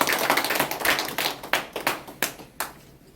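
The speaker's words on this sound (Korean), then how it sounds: "큰 박수로 환영해 주십시오." Scattered welcoming applause at a North Korean defectors' press conference, with distinct individual claps that thin out into a few sparse, separate hand claps near the end.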